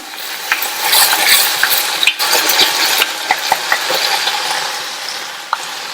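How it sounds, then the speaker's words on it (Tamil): Onion, tomato and crushed garlic sauté in hot oil with a steady close hiss, broken by scattered clinks and scrapes of stirring throughout. "இப்ப இந்த வெங்காயம் தக்காளி பூண்டு எல்லாமே ஓரளவு வதங்கி வரட்டும்"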